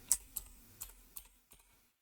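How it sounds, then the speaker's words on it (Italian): Keystrokes on a computer keyboard while typing an address into a browser bar, about six distinct clicks spaced irregularly, close and fairly quiet, with no voices. "Per farlo digitiamo nella riga in alto OneIP."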